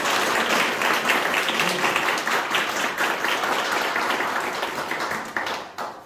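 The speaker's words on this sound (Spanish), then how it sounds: "para que él pida un fuerte aplauso" An audience applauds a young pianist from Puerto Montt at a piano and cello concert, a steady wash of clapping that holds for about six seconds before thinning out at the end.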